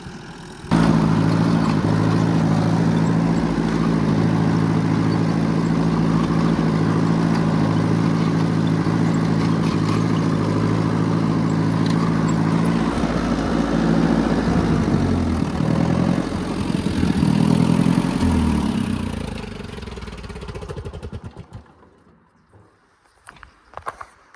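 A half-track vehicle's engine labours steadily through deep snow, loud and close with a constant low drone, then it fades and drops away near the end.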